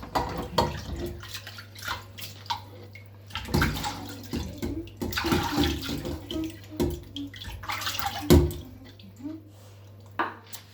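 Cooking pots being washed inside and out with water, giving irregular splashing, sloshing and clanking bursts with a steady low hum beneath, close and fairly loud.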